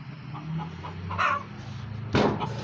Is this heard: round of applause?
no